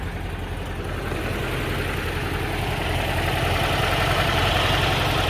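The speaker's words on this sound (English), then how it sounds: "the motor sounds really nice, as you guys see here" A 1960 Porsche 356 engine runs steadily at idle, a continuous low throaty rumble that swells slightly louder toward the end, with no voices.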